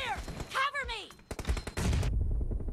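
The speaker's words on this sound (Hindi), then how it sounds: "बैक मतलब कवर फायर ऐसा ही होना चाहिए।" Gunfire in the mobile battle-royale game PUBG Mobile laying down cover fire: a short run of sharp, rapid bursts, close and loud, that follows a voice speaking and gives way to steady background noise.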